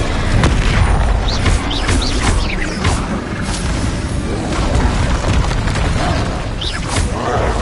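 Incendio fire spells cast in Hogwarts Legacy on PS5 burst out as loud, crackling booms and whooshing impacts, repeated several times amid other spell effects, with no voice.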